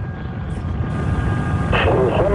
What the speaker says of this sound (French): La navette Columbia décolle.